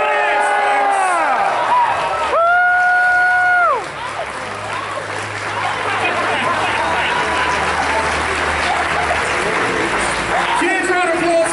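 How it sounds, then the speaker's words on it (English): A crowd at a convention charity auction claps and cheers loudly, with high whoops and shouted calls over the applause, which carries on steadily and swells again at the end. "Give yourselves a huge round of applause."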